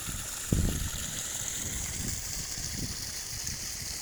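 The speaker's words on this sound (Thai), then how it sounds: "ครับเสียงน้ำไหลครับ" Water pumped out rushes and hisses steadily, a continuous flow with a low mechanical rumble from the pump and a brief knock early on.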